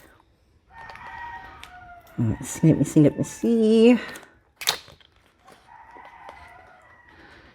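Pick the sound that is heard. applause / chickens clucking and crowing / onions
chickens clucking and crowing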